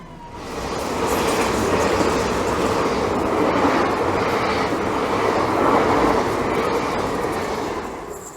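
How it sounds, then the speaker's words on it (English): A train rumbles past near Starcross, rising from quiet into a steady broad roar of wheels and carriages that holds for several seconds, then fades away at the end. "Always nice to see a train"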